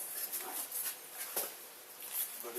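A pet dog whimpers indoors in a few short, soft, high whines and yips spread across a couple of seconds, with no clear speech.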